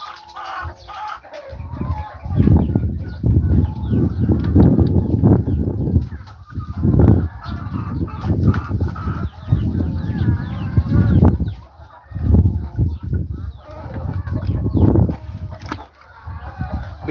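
Cornish Cross white meat chickens cluck and chatter loudly in a close flock on a farm, a dense continuous clamor with brief lulls.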